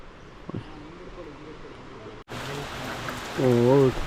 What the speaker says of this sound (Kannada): ಸಾಕಾದ ಮಳೆ ಬರ್ತಾಯಿದೆ